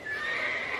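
A horse whinnies in the video game Frostpunk, a short, sustained, mid-pitched neigh of under a second standing alone with no talking over it.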